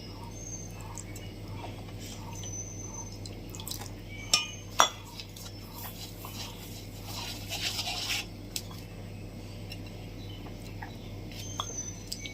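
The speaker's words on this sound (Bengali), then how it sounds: "অল্প অল্প জল দিয়ে দিয়ে গুলতে হবে।" Beetroot fritter batter is stirred with small additions of water in a bowl, making soft wet squelches and scattered spoon clinks against the bowl, quiet and close, with no talking.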